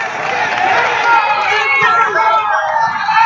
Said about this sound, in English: You hear the crowd behind saying the same thing.